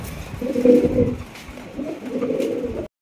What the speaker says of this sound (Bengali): মাশাআল্লাহ দেখেন বিশাল বড় সাইজের টপ কোয়ালিটির সুপার কোয়ালিটির এক জোড়া ডেনিশ কবুতর, দেখেন ব্ল্যাক ডেনিশ